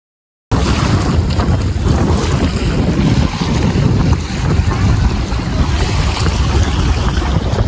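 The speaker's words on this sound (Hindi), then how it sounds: "ये जो पानी है ना, इसका शोर ना आपको आपके अंदर जो आवाज़ें होती है ना, जो शोर होते हैं उनको भुला देता है" Loud continuous rush of water, like a river or waves, with heavy wind buffeting the microphone, steady and close throughout on a solo mountain trip.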